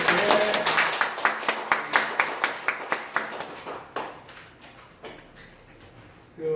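A church congregation claps together in a series of sharp, rhythmic group claps that gradually thin out and fade into scattered taps near the end.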